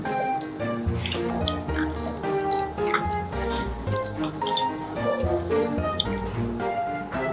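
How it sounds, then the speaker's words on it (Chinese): Sesame oil poured in a kitchen while cooking beef noodles, a close, continuous dribbling and squishing liquid sound over faint background music. "倒点香油"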